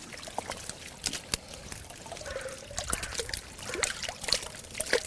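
Water trickles and splashes in irregular bursts as caught perch and roach are tipped back from a net into clear water at a fishing match, with small drips and pours close by.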